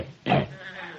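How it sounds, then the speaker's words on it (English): A water buffalo snort used as a sound effect in a 1955 radio comedy show. A single short, loud, breathy animal burst stands out against a quiet background. "the snort of the water buffalo"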